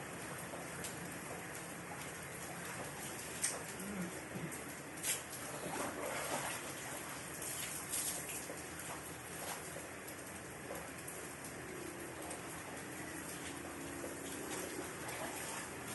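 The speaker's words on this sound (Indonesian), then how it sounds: "bagian kiri tubuhnya disiram kembali dengan air suci lagi menyucikan" Water poured over a body during an Islamic ritual washing of the dead, a steady continuous splashing and trickling stream that runs throughout, fairly close, with no talk.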